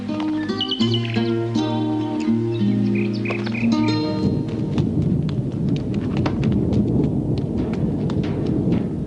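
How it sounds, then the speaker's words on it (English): Tonal notes and chirps give way to a dense, steady roar of heavy rain with a deep rumbling underneath, like a thunderstorm moving in. "But there's a storm coming."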